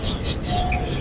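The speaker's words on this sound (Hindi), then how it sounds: "तो ये डायमंड डव हैं" Diamond doves, a small pigeon-type breed kept as a breeding pair in an aviary on a bird farm, give soft cooing and light chirpy calls close by, repeating in short bursts over a faint background hum.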